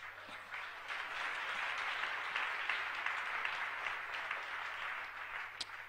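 An audience at a church teaching service claps together for a man called up front, a sustained, fairly distant wash of many hands with a faint steady hum beneath.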